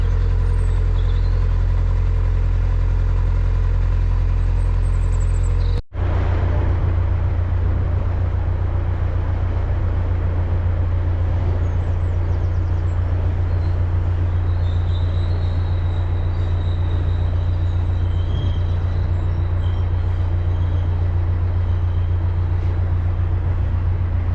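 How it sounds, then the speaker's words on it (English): A long train rumbles steadily past at close range near Manchester, England, a continuous heavy roar of wheels and cars with occasional faint squeals, no break throughout. "Still going. Massive train. There's the end of it."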